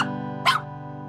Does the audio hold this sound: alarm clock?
no